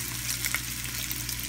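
Continuous sizzling of tofu frying in a small hot pan, a steady crackling hiss with a low hum underneath.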